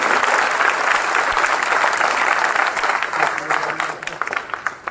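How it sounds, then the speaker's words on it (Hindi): Loud, dense applause from a school audience honouring the staff, steady for about four seconds before thinning into scattered claps at the end. "समस्त स्टाफ के लिए एक बार जोरदार तालियां हो।"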